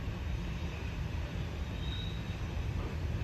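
A Wisconsin Central freight train rolls past at a distance, a broad steady rumble and hiss of wheels on rail with a faint high squeal, constant and unbroken, no voices.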